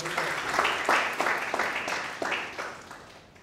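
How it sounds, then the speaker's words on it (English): An audience at a college photography lecture claps in a warm, fairly close round of applause that builds, then fades over a few seconds. "Can we have a round of applause for them?"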